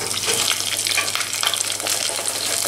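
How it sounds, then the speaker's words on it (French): Chicken pieces for KFC-style fried chicken deep-frying in a fryer preheated to 160 degrees, a dense, steady bubbling sizzle that stays even and fairly loud throughout. "Et là je vais les cuire dans une friteuse préchauffée à 160 pour qu'ils prennent une jolie couleur"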